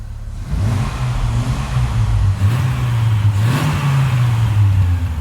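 A Dodge Viper RT10 engine turns over and rises into loud, nearby revving, its pitch climbing and then settling into a strong idle. A second sharp rev swells near the end, and no one talks over it.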